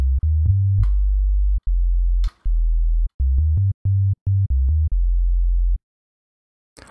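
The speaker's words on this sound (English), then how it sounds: "If you're using a sub bass, kind of like this, just a sine wave," A pure sine-wave sub bass synth tone plays a stuttering pattern of short and sustained low notes, loud and steady with abrupt starts and stops, followed by a brief silence near the end.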